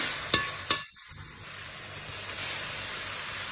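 Pork stir-fried in a pan, a steady broadband sizzle with a few sharp clanks of a utensil against metal near the start, continuing evenly and close by with no talk.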